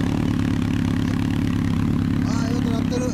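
A steady, throbbing engine idling nearby from a 2005 Honda CB1300 Super Four with a Simpson LCI exhaust, loud and continuous, with faint voices briefly near the end.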